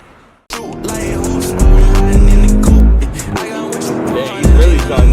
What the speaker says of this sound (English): Really driving the car on the first rip.